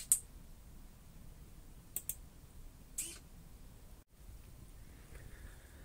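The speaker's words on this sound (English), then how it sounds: "I'm just going to keep clicking these now until I hear that a set of points hasn't moved" Push buttons on a model railway control panel are clicked to switch sets of points, giving a few sharp, sparse clicks spaced a second or so apart over a faint, steady background hiss.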